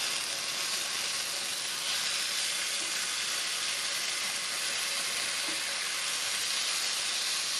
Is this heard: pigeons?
no